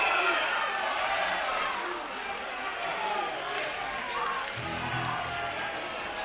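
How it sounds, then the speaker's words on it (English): Hockey crowd at a Barry's Bay Wolves versus Manotick Mariners playoff game, a steady roar of cheering and noise filling the arena during a penalty, continuous and fairly loud throughout. "This crowd is really getting into it now. You can hear it."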